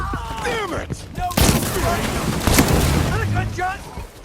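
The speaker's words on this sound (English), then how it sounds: "Another gunshot!" Gunfire in a video game on PS5: two loud, sharp blasts ring out among tense shouting voices and a rumbling background.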